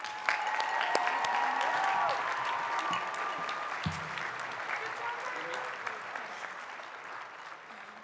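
An audience at a high school graduation ceremony claps steadily, a dense wash of applause that stays strong throughout and eases slightly toward the end.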